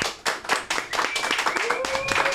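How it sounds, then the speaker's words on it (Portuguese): An audience bursts into applause for a guest lawyer being welcomed onto a Brazilian podcast, with sharp, dense clapping near and loud, blending into a ringing tone and some voice later on. "Salva de palmas, Dr. Nelson Williams!"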